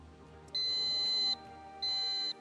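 A game show buzzer sounds as a team presses it, two steady electronic beeps, each just under a second long with a short gap between, clear against a quiet studio background.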